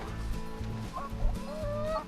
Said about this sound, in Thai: อันนี้ก็จะเป็นฟาร์มไก่อารมณ์ดีของเราค่ะ